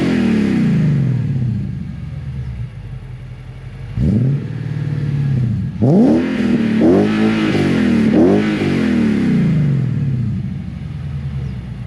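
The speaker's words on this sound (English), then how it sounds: "Just free revving, but it sounds way more aggressive on the street." An Infiniti M56 fitted with PPE headers and exhaust free-revs while parked, a deep idle burble punctuated by four sharp throttle blips that climb and fall back, the last ones in quick succession.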